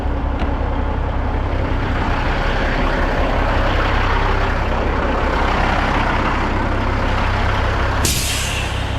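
A truck pulling a trailer into a drop yard rumbles loudly and steadily close by, then a sharp burst of air-brake hiss sounds near the end.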